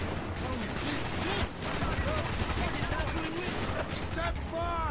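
Dense, sustained gunfire from the Call of Duty Black Ops video game, rapid bursts and overlapping shots running the full length with barely a pause, loud and close, with faint voices and game effects mixed in.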